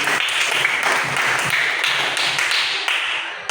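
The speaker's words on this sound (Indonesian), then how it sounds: "berikan dulu tepuk tangan kepada kelompok satu." Loud, dense clapping from a classroom group, steady and close, lasting a few seconds with no speech.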